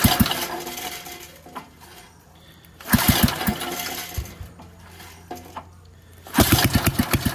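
Repeated start attempts on a Montgomery Ward tiller engine with the choke on: three bursts of rapid pull-cord sputtering and chugging, each briefly catching and dying, separated by quieter pauses with faint clanks.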